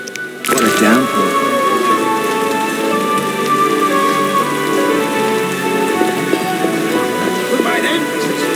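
Heavy rain pouring down in The Witcher video game, a dense steady hiss of raindrops on surfaces that sets in abruptly and holds loud and unbroken throughout.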